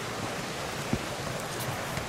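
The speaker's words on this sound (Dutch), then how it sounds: "Riviertje de Save." The small river Save flows through the Ardennes woods with a steady, even rushing wash and no distinct breaks.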